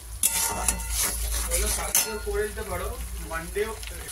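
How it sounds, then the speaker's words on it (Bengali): An egg kosa mixture with red sugar being stir-fried in a pan: a utensil scrapes and knocks against the metal over a steady close sizzle, with a few sharp clinks. "এবার এটাকে ভালো করে একটুখানি কষে নিই।"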